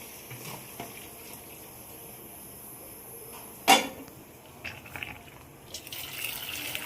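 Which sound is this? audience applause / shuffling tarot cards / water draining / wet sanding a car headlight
water draining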